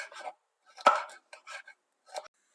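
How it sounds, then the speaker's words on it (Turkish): A knife chops peppers on a board in a few close, crisp, irregular strikes, with one sharper cut standing out among the lighter taps. "Hemen bu biberlerimi de doğruyorum."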